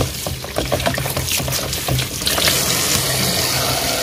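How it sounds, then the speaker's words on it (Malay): Aloe vera is rinsed in clean water, with a steady splashing, pouring rush of water that continues throughout and grows slightly louder toward the end. "Lepas tu bilas dengan air bersih."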